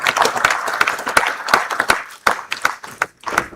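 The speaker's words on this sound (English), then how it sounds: "I thought it deserves a resounding round of applause" Audience applause at a South East security summit, with a smallish crowd clapping in uneven, sharp bursts close to the microphone, briefly fading before a final few claps.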